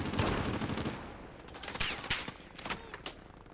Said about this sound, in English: Where are these sniper shots coming from?